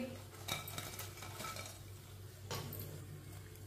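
Fried potato pakoras lifted out of a pan and set onto a plate, with a few faint metallic clinks and scrapes of utensil against cookware over a quiet background.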